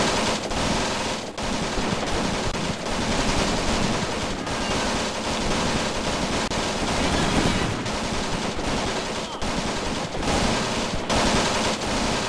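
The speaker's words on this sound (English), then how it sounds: "that sound is just absolutely unmistakable for MG42 fire" MG42 machine gun fire in the Graviteam Tactics war game, heavy rapid-fire bursts ripping continuously with brief gaps between volleys, loud and dense amid battlefield noise.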